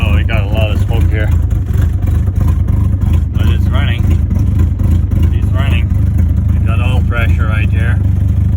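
An old Mercedes 240D W123 diesel engine runs roughly at a steady idle after sitting unused for years, a loud continuous low clatter with people talking over it intermittently.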